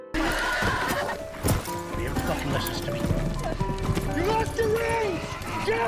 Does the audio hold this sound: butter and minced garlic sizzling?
no